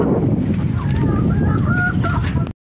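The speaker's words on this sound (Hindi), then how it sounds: "ये देखें हमारे मुर्गे." Chickens and roosters call with overlapping honking, squawking cries over a dense, noisy outdoor background, loud and continuous until the sound stops abruptly.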